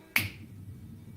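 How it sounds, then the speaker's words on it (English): A single sharp finger snap lands near the start, loud and close, then fades into a low background hum with no voices. "I snap my fingers."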